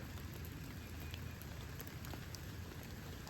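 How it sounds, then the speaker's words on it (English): Rain falls steadily in a garden, a dense, even patter that is close and constant without a break and has no voices over it. "Now I'm out here in the rain."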